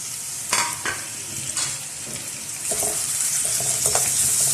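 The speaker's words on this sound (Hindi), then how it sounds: "प्याज को इसके अंदर तकरीबन लाइट गोल्डन होने तक इसको फ्राई करेंगे।" Onions fry in hot olive oil in a pot, a continuous bright sizzle broken by a few scraping stirs, with the frying growing louder toward the end and no voices.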